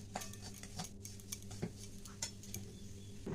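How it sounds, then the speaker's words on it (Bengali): Metal spoon scraping and clinking against a pan while semolina fries in ghee, with irregular light taps and scrapes over a quiet background sizzle. "সুজিটাকে একটু লাল করে ভেজে নেব।"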